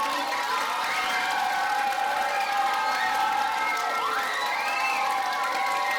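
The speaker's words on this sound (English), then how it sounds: "Can we get another round of applause for my third and fourth grade?" At a school show with third- and fourth-grade performers, an audience cheers and shouts with steady crowd noise, applause and excited children's voices blending together at an even level for the whole stretch.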